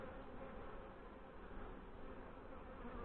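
Honey bees buzz in a steady, dense drone around an opened hive during a May inspection, continuous and close with no other sounds breaking through.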